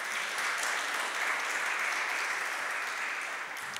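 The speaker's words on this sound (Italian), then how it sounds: "Applauso, sì, sì." Steady, dense audience applause fills a poetry festival hall, a full crowd clapping continuously at even loudness before tapering slightly at the very end.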